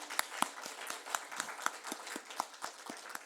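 Congregation in a church clapping in thanks during a Sunday sermon, a steady run of sharp, fairly even hand claps at a moderate distance, with no talk over it.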